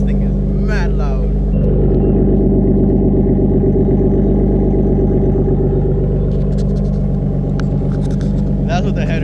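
A 7th-generation Nissan Maxima engine idling loudly with newly installed headers, a dense steady rumble that fills the whole stretch, with voices talking briefly over it.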